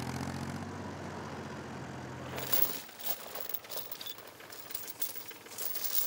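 An old tractor's engine idles with a steady low chugging and rattling, fairly faint and distant, then drops off about halfway as lighter clattering and rustling noises take over; no one speaks.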